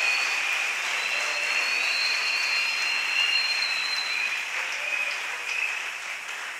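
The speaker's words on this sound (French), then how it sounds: "Acclamez quand même bien pour le Seigneur qui a parlé." A wedding congregation in church applauding the Lord, sustained dense clapping and cheering held at an even level throughout, with a shrill whistle-like tone running over the crowd.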